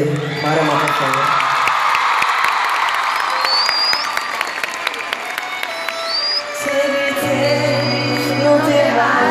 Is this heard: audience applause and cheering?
yes